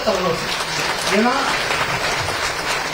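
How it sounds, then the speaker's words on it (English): Audience clapping at a ceremony honouring UPSC exam achievers, a steady moderate patter of applause with a voice speaking over it. "Can we have one huge round of applause?"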